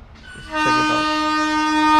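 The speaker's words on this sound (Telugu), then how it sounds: "ఇప్పుడు ట్రైన్ అయితే క్రాస్ అవుతుంది, ఒక ట్రైన్" A train horn sounds loud and sustained, rising over rail rumble as a train approaches the diamond crossing in Nagpur, with no talking.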